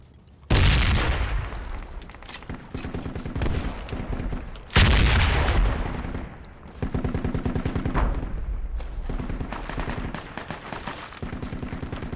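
Gunfire and blasts in Project Reality, including a frag grenade thrown into smoke, with two sharp, loud booms followed by bursts of rapid rifle and machine-gun fire crackling on and off across the whole stretch.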